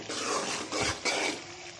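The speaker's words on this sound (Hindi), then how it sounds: "अब इसकी हल्के से बुनाई करेंगे।" Masala frying in ghee in a pan, stirred gently with a utensil: a steady close sizzle with soft scraping strokes swelling and fading across a couple of seconds.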